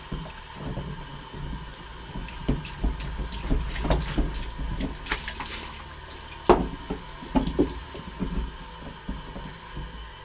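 Running water rinses freshly developed Ilford black-and-white film in a sink, a steady close splashing flow with irregular gurgles and a few louder bursts.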